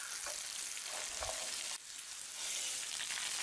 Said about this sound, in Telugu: మీడియం హీట్లో పెట్టుకుని వేయించుకోవాలి.